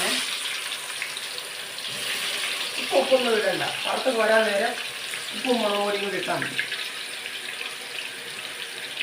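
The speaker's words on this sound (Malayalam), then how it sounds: "ഇങ്ങനെ തിളച്ച എണ്ണയിലോട്ട് ഇടുക" Potato slices sizzle in boiling oil for chips, a steady hiss of frying running throughout beneath a voice speaking in bursts.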